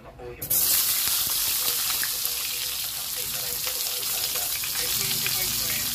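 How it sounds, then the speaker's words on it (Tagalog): Eggplant frying in a pan gives a loud, steady sizzle that starts abruptly and crackles continuously throughout, with no voices over it. "Dito na rin natin iprito yung ating gulay. Unahin natin yung ating eggplant."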